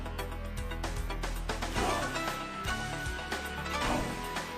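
A theme from the video game Killer Instinct Gold plays as dense, steady game music with punchy bass and bright layered synth lines. It is loud and continuous, with no voices.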